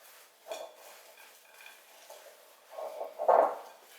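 Banana bread batter being stirred with dry white flour in a bowl, soft scraping and thick squelching strokes at irregular intervals, close and fairly quiet, with a louder stir near the end.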